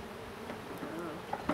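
Honey bees buzz steadily around an open hive during a routine eight-week inspection, a dense continuous drone with a couple of brief louder passes near the end.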